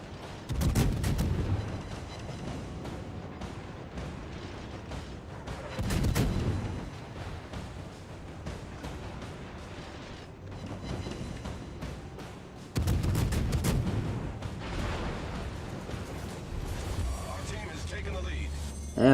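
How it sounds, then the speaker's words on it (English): Heavy naval gunfire from warships in a battle game, with three loud booming broadside volleys spaced several seconds apart and rumbling decay, while a commentator talks over them. "the Emerald's going to give you a nice juicy broadside"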